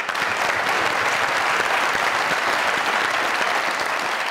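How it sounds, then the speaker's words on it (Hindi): A studio audience at a comedy show applauds, a dense, steady burst of clapping that holds at the same level throughout, near and loud, with no speech over it. "इनके लिए तालियां।"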